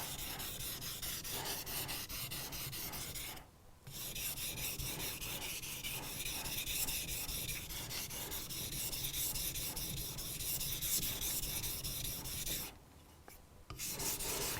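A knife blade is sharpened by hand, a continuous close scraping rub of metal against stone that pauses briefly twice before resuming its steady strokes.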